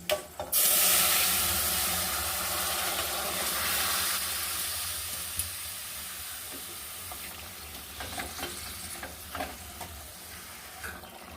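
Chopped pumpkin-green stems tipped into a hot pan of oil, a sharp burst as they land, then a steady, fairly loud sizzle and hiss with occasional stirring clatters, no voices.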